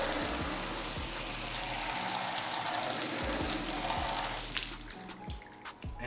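Water sprays steadily onto a car during a rinse, a continuous hiss close by with faint rhythmic thuds underneath, then cutting off and trailing into drips.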